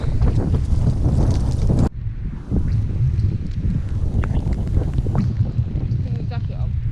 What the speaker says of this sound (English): It's pretty grey and pretty windy, and it's raining a bit